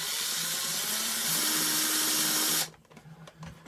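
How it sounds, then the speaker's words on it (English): A power drill boring a hole through the plastic body of a Redcat Everest 10 RC car, a steady high whine for about two and a half seconds that cuts off abruptly, followed by faint handling noises. "we're going to drill this second one that I already had marked"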